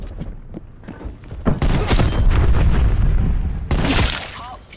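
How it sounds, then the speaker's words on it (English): Gunfire bursts from a hand cannon fired from the hip in the Black Ops Cold War shooter, heavy loud booms with dense game noise around 1.5 to 3.5 seconds and again near the end. "little hip fire there with the hand cannon."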